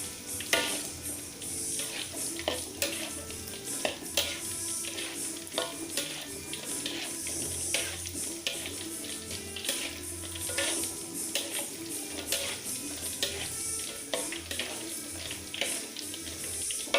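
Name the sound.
stirring tofu frying in a pan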